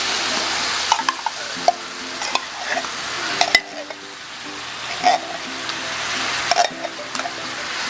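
Cream of mushroom is added to mushrooms cooking in a pan and stirred, bringing soft sizzling, liquid sloshing and several sharp clinks of a utensil against the pan.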